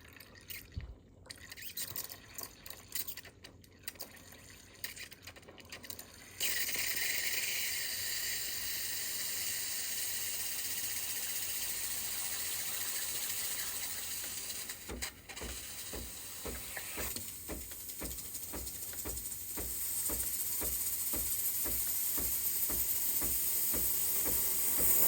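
Steam wand on a Breville Barista Express BES870BKS espresso machine hissing loudly and steadily for most of the span, starting after a few seconds of quieter clatter, with faint rhythmic dripping or pulsing beneath toward the end.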